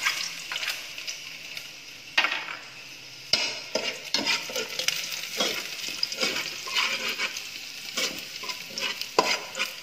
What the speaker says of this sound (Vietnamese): dầu nóng chúng ta phi hành.